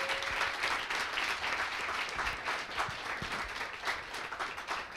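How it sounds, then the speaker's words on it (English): An audience at a talk event gives a round of applause for a speaker, a steady, fairly faint patter of many hands clapping with no speech. "How about a round of applause for Banning?"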